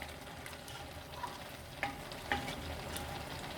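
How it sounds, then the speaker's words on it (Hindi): Meat frying with spices in cooking oil for palak gosht: a continuous close sizzle with occasional stirring scrapes and clinks from the pan, no voices. "इसको मैं अच्छी तरह से इसकी बुनाई कर लूँगी। इसकी इतनी बुनाई करनी है कि ऑयल मसाले से अलग हो जाए।"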